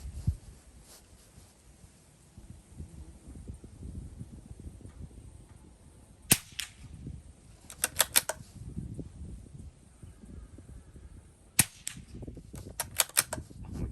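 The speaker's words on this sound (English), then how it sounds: "The nice thing about shooting standard velocity ammunition is you don't need hearing protection with a suppressor." Suppressed shots from a CZ 457 rimfire rifle firing standard velocity ammunition, sharp muffled cracks heard in two clusters, one lone shot followed by a quick string of three or four, over a steady outdoor background, with no talking.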